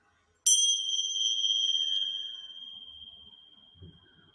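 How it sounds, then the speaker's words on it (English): A single bell struck to open a restorative yoga practice rings out clearly and sustains with a pure tone that slowly decays over several seconds, with faint room noise underneath. "I mark the beginning with the bell."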